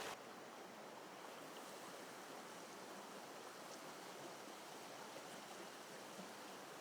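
Steady, fast-flowing stream water rushes past mossy rocks where it drops into a pool on a fly fishing trip, a continuous broadband wash heard from close by, fairly quiet and with no talking.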